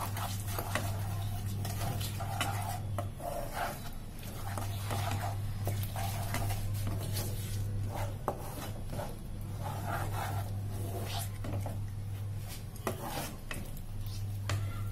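A spoon stirs and scrapes through tomato ketchup and sugar in a pan for a Holi thali, making repeated clinks and soft scraping in an irregular rhythm. A low steady hum runs underneath.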